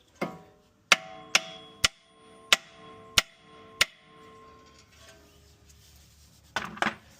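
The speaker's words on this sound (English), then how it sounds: "What I like to do is take a dead blow." A dead blow hammer striking a Nuespeed biAXIS strut mount, seven sharp metallic knocks at an uneven pace followed by a pause and a final pair of clattering hits, close and alone.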